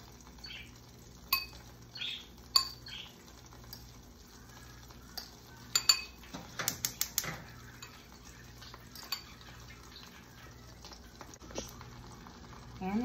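Metal utensils clink and scrape in a pan while noodles are stirred for a breakfast volcano noodle dish, sharp sparse taps over a low steady hum, with faint talk in the background.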